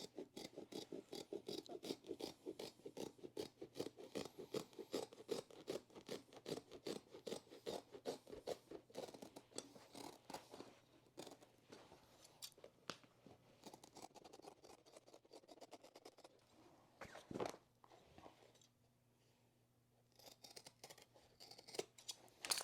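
Scissors snipping through a stair runner carpet in quick, steady rhythmic cuts up close, a brief pause near the end before cutting resumes.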